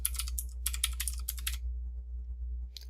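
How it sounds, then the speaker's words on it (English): Quick bursts of keystrokes on a computer keyboard as a phone number is entered, close and clear, in several short clusters that stop after about a second and a half, with one final tap near the end; no voices. "So you type in a number."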